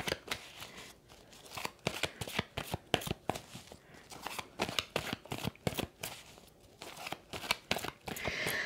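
Tarot cards shuffled, flipped and laid out on a table, a dense run of crisp, close slaps and riffling snaps in irregular bursts, with no talking.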